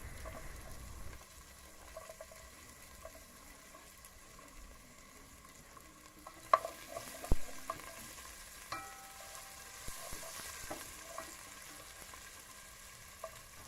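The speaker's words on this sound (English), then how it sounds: "After it has been heated, I am going to add my onion and my garlic. I am going to saute them for about a minute or two" Onion and garlic sauté in hot oil in a pan, a soft steady sizzle with occasional stirring clinks and scrapes, a few sharper knocks midway.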